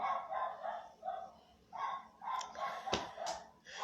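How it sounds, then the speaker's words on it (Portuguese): Several dogs bark at a distance in irregular bursts, some yips overlapping, with a faint sharp click in the middle. "Os cachorros estão latindo"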